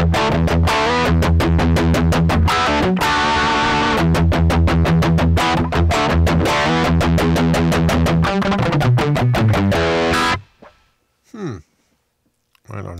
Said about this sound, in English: OD. Overdrive, gain on